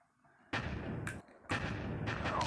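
Tank cannon fire in the game Tank Hero: two loud, close booming blasts about a second apart, each ringing on with a sustained roar, over a quieter opening.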